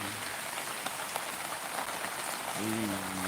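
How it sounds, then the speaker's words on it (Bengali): Heavy monsoon rain pours down around a house taking in floodwater, a dense, steady hiss of drops on surfaces, and a voice briefly rises over it near the end. "ভাবতে পারিনি যে এতটা জল হবে আর বৃষ্টি এতটা হবে"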